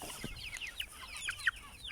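Chickens cluck in short, scattered bursts while pecking at pasta in a backyard coop, with soft overlapping calls spread over a couple of seconds, a sharper cluck standing out near the end.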